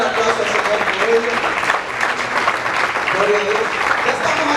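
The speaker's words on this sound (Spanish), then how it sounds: "denle un aplauso al Señor por ello" A church congregation applauding, dense, steady clapping from many hands filling the room, with voices mixed into the sound.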